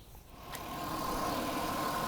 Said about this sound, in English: the engine idling at 2000 to 2500 RPM